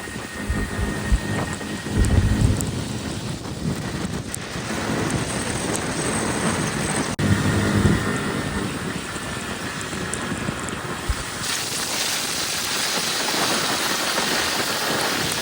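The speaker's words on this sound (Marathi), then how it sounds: "आता पाऊस आहे अजून जिंदगीत आमच्या" Heavy rain falling during a monsoon downpour on the way to a hidden temple near Matheran, a dense continuous hiss with occasional low rumbles and gusts, loud and close, without talk.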